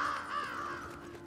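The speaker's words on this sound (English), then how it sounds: "Not the crows." Crows caw in a video game set in a ruined city, a short run of hoarse calls sounding at moderate distance with no voices over them.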